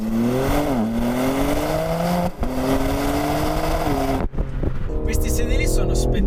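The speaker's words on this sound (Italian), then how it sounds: "la macchina inizia a fare un po' fatica a scaricare tutti questi 510 cavalli" A BMW M4 Competition G82 with 510 horsepower accelerates hard, its engine note rising through the revs with gear changes, loud and close, while someone talks over it.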